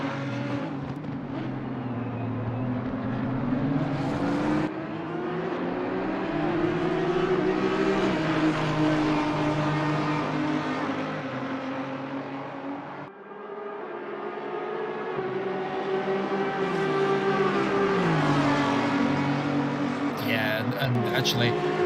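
Race car engines, including Audis, in a sim racing game at Catalunya drone loudly and continuously, pitches climbing and dropping through gear changes as cars run close together, while a commentator talks over the engine noise.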